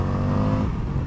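A 2019 Indian FTR 1200 S motorcycle engine revs loud and close, a dense, steady roar with strong low harmonics that eases slightly toward the end.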